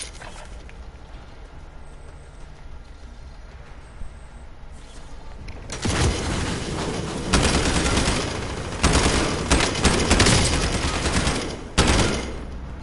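Video game weapon gunfire, quiet at first and then erupting into bursts of rapid shots, loud fusillades separated by brief pauses.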